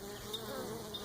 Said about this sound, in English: I was just going to show you some of my bees